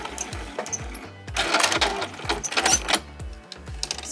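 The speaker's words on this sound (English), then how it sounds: "I'm just going to sew diagonally straight off this corner" A sewing machine stitches diagonally off the corner of a quilted hot pad, its needle thumping in a fast regular rhythm, close and continuous with a brief pause partway through.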